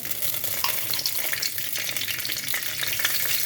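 Panch phoron spices sizzling in hot oil for a watermelon-rind curry, with a steady dense crackle and hiss running throughout, close and continuous, with no talking.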